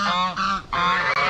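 Farm geese honking loudly and close by in a couple of harsh, nasal calls that run almost back to back.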